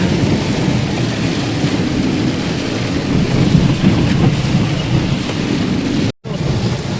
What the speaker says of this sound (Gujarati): આમ જે વરસાદ થાય